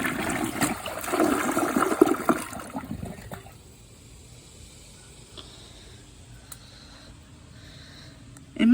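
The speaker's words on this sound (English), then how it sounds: "let's give this another hefty flush." A brand new 2023 Project Source Pro toilet gives a strong rushing flush that fades after about three seconds into a quiet trickle and refill, with a sudden sharp noise at the very end.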